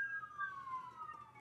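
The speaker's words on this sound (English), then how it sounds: "We've got a little ambulance going by." An ambulance siren wails faintly in the distance outside, a single falling tone drifting past under low room hum with no talk.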